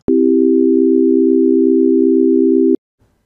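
A sustained electronic chord of pure tones in equal temperament holds steady for nearly three seconds, with a slight wavering pulse in loudness from beats, then cuts off abruptly.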